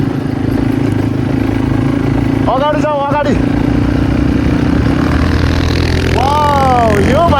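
Hunter motorcycles riding on a long group ride, a loud continuous engine drone throughout, with voices talking over it.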